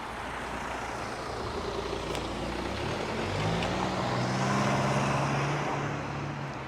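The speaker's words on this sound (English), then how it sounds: "Obviously you can see there's still a bit of traffic here" Traffic on a back street, a continuous rumble of passing vehicles with an engine swelling as one goes by close.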